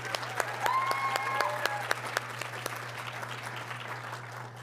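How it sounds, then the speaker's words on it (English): Audience applause at a university graduate school research symposium awards ceremony, a steady wash of many hands clapping at moderate distance that holds for several seconds and slowly thins, with a low steady hum underneath. "Let's give them a round of applause, please"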